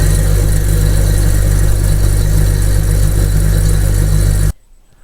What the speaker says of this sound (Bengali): এরপরে আমরা হাতে করে 2-3 বার ঘুরিয়ে মেশিন স্টার্ট করবেন।